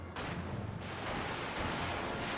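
An artillery barrage in Company of Heroes 2 lands as a string of heavy booming blasts, three or four rolling impacts in quick succession, loud and close with no voice over it.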